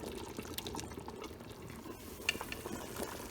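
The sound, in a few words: red palm oil cooking in a pot for egusi soup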